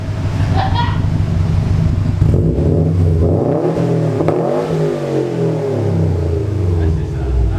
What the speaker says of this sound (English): Go ahead, rev that V4, bud.